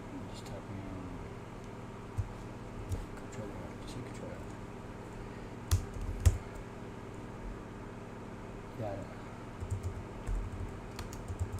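A computer keyboard is tapped in sparse, faint keystrokes with irregular gaps, over a low steady room hum.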